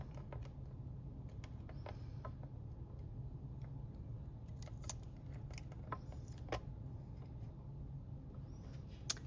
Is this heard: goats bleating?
no